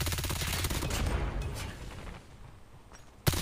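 An MG42 machine gun in a video game fires a fast, dense burst of rapid shots that fades toward the end, followed by a single sharp report. No one speaks.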